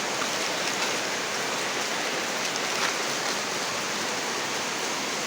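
Rain falls in an even, unbroken wash of hiss, steady and fairly loud throughout, with no talking.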